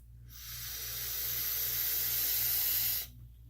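Steady airy hiss of a vape draw pulled through a Drop Dead RDA rebuildable dripping atomizer with the airflow fully open, rising smoothly for about three seconds and cutting off abruptly, close and moderately loud over a faint low hum.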